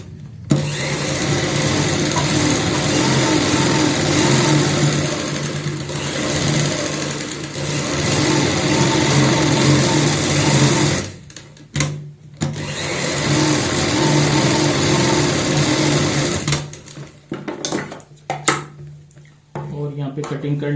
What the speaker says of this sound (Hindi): अब हम यहाँ पे बाहर की साइड में एक सिलाई लगाएंगे